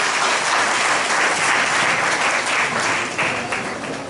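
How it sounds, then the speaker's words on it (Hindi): A church congregation claps loudly for Jesus Christ at a deliverance prayer meeting, a dense, steady wash of many hands that holds strong for about four seconds and eases slightly toward the end, with no talking over it. "एक बार जोरदार यीशु मसीह के लिए ताली बजाएंगे।"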